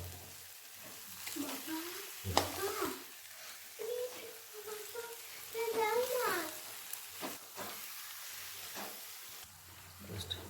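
Eggs frying in spiced masala in a pan, heard as a soft, intermittent sizzle while a person talks over it.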